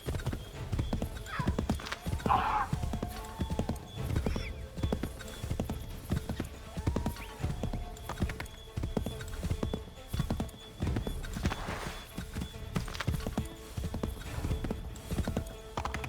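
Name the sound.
horse galloping, from video game Assassin's Creed III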